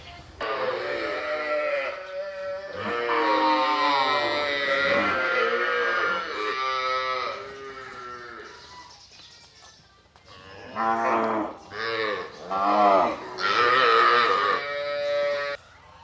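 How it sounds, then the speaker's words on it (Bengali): Calves on a farm call out to suckle milk on a winter morning, letting out a run of loud, close bawling moos, some long and drawn out and others short, with brief pauses between them. "বাছুরগুলো আসলে দুধ খাওয়ার জন্য চিল্লি করতেছে"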